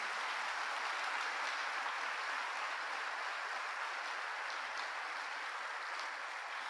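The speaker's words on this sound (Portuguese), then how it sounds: "Dê um aplauso ao Espírito Santo por isso" A church congregation applauds during a sermon, giving a steady, even wash of clapping that sounds somewhat distant and fills the whole stretch without a break.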